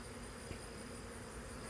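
Honey bees buzz around big open hives worked without a suit or veil, a faint, steady, continuous hum that lasts throughout and has no talk over it.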